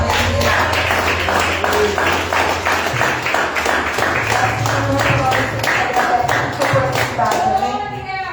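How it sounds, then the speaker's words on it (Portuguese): A church congregation claps at a Sunday service, with rhythmic, fairly loud hand claps repeating steadily under a voice speaking and a low musical background. "Aplauda Ele nessa noite."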